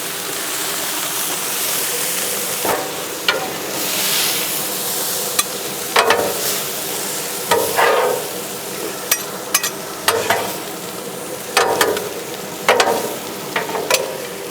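Mushrooms, zucchini and bean sprouts stir-frying with a splash of water in a pan for drunken noodles, a steady hiss of steam and sizzle broken by repeated scraping stirs and clanks, with no talk.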